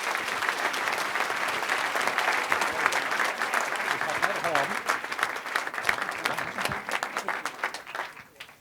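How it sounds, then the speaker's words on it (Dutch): An audience at a local sports and business awards evening gives sustained, loud applause with some crowd noise, the clapping thinning slightly toward the end. "een applaus voor Anouska Koster"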